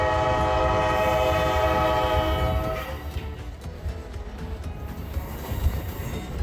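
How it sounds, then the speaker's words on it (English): An Alaska Railroad passenger train's horn blares for a few seconds, then gives way to the steady low rumble of the train pulling away from the station. "watched as the train slowly pulled away from the depot"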